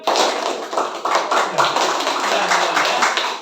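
A classroom of students claps hands in response to a teacher's cue, a series of sharp group claps in quick bursts, fairly loud and close, with a voice briefly present.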